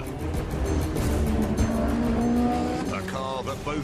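A Ferrari 458 Spider mid-engine supercar roars past loudly as tires squeal, the sound rising and sweeping by with a sharp screech near the end.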